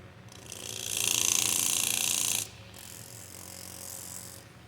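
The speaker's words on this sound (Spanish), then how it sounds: "Y aquí los ventiladores pues ya están trabajando." Cooling fans inside a Samsung inverter refrigerator whir steadily up close, a louder broadband hum for a couple of seconds before dropping to a quieter continuous whoosh.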